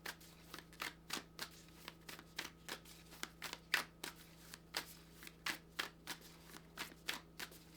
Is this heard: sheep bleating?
no